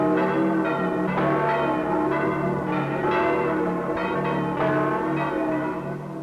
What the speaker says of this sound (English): The bell that tolls for Easter morning also tolls for death.